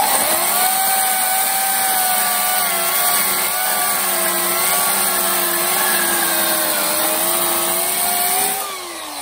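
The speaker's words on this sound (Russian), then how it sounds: "Рабочая пила." A Makita-type electric saw motor whines steadily at close range during a warranty repair check, a continuous high running tone that holds for about eight seconds before spinning down near the end.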